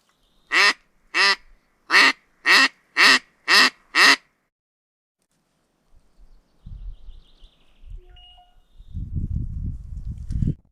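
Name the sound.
person imitating a duck's quack while hunting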